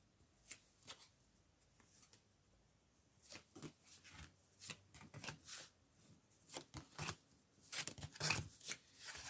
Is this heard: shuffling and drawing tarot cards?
yes